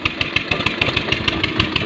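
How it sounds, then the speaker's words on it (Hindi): Two Eicher tractors (241/242) idle together with a rapid, regular diesel chug and sharp repeating knocks. The engines are close and fairly loud, and nobody speaks over them. "दोनों ट्रैक्टर स्टार्ट है"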